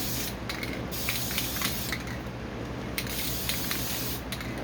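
An aerosol can spray paints a Bluetooth speaker in a steady, close hiss that runs without a break, with slight rises and dips in the spray and no voices over it.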